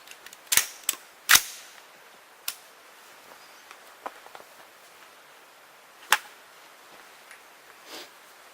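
5.56 green tip NATO armor-piercing rounds strike a BallistiCore ballistic barrier panel, producing several sharp, loud cracks at irregular intervals, with a couple in quick succession early and quieter ticks between.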